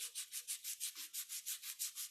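Metal is sanded by hand in quick, even back-and-forth strokes, roughly six per second, a soft rhythmic rasp that is close but quiet, with no talking.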